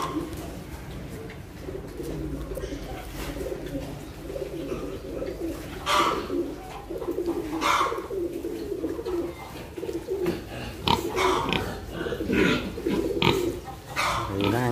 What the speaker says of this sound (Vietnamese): Thì đàn heo này của mình này cũng được 11 con nè.